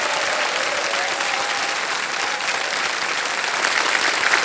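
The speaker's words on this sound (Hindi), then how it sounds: "तालियां बज जाए इनके लिए।" A large studio audience on the TV quiz show Kaun Banega Crorepati claps steadily and loudly throughout, a continuous wash of applause with no pauses.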